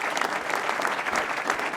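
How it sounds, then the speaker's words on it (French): An audience at an innovation awards ceremony applauds a prize, with a brief burst of dense, even clapping from many hands, loud and close. "Alors on peut l'applaudir"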